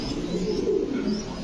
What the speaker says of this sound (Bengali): বিশাল সাইজের কবুতর।